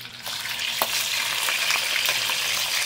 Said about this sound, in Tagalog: Prito muna tayo ng ating mga garlic.